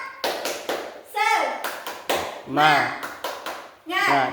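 A classroom of children performs the 'tepuk semangat' spirit clap, sharp rhythmic bursts of hand claps alternating with loud chanted voices, close and lively.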